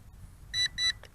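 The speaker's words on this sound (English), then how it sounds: "okay, double beep" Helicute H816HW drone controller giving two short, bright electronic beeps in quick succession, close and clear over a quiet background, followed by a faint brief tick.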